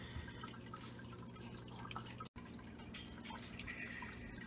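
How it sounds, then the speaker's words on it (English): Water drips slowly into a container holding imported female betta fish from Thailand, a faint steady dripping trickle over low room hum, with a brief dropout midway and no talking. "we're doing the acclimation now of the water, just dripping very slowly"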